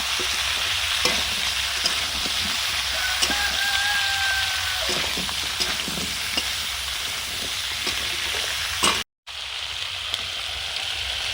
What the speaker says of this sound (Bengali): বাঁধাকপি অল্প জ্বালানিতে ধীরে ধীরে সব সবজিগুলো কষে নেবে